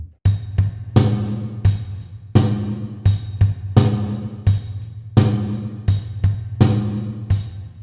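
A rock drum beat with heavy, driving hits on the downbeat, kick and snare punching out a steady groove over ringing cymbals for about eight seconds, loud and close with no talking.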